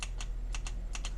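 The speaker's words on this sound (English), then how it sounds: "you can hear the solenoid clicking" A Chevy 5.3 LS fuel injector solenoid clicks in three quick paired ticks, faint and crisp over a low steady hum, with no talking.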